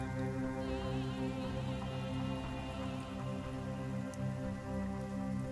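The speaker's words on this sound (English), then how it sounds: "the rain's not heavy, but it's still like coming down" Light rain falls in a steady, soft patter of drops with a faint tonal hum underneath, constant throughout with no talking.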